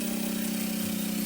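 A 750-horsepower V12 engine idles at 1,000 RPM, giving a steady, close, even drone with a low pulsing hum that holds without change and has no voices over it.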